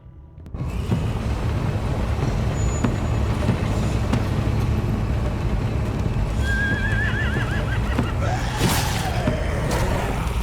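A horse whinnies loudly near the end during a ride through a zombie apocalypse in the video game The Walking Dead: A New Frontier, over steady hoofbeats and game noise.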